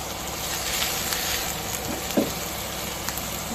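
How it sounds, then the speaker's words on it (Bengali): Onion and chilies frying in oil give a soft, steady sizzle at a moderate distance, with a few light clinks and knocks in the pan. "দিয়ে দিয়েছি তেল, দিয়ে দিব পেঁয়াজ মরিচ"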